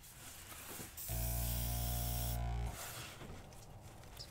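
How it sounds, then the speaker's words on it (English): An airbrush compressor blowing at 25 psi gives one steady, loud hiss of air and spray lasting about a second and a half, then cuts off, with quieter background noise before and after. "This blows 25 psi, which is perfect for airbrushing"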